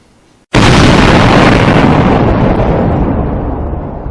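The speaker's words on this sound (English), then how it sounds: "Let's start simply, with a huge explosion." A massive explosion erupts suddenly after a brief quiet, then a loud, dense roar rumbles on and slowly fades over several seconds.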